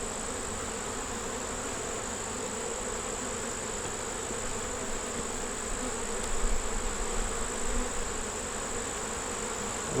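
Honey bees buzz steadily around a backyard hive, a dense, continuous drone holding near and even for the whole stretch with a slight swell partway through.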